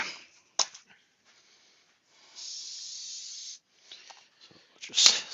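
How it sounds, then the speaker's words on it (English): A spray can hisses onto a yew wood bowl in one sustained burst of about a second, faint and close, between a few scattered knocks and handling noises in an otherwise quiet workshop. "So I just sprayed that."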